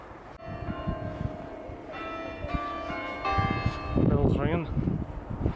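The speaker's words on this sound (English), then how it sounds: "Bells ringing." Church bells ring out near a large graveyard by Hatherleigh Moor, a series of resonant chimes with lingering overtones, heard outdoors over wind and footsteps, with a voice briefly speaking toward the end.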